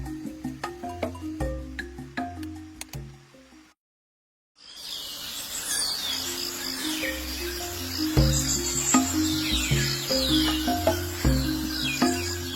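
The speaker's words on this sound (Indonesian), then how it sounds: "Kicau burung sudah mulai ramai terdengar." At dawn, many birds chirp and call over a steady insect drone, with a short silent gap before the chorus resumes, busy and lively.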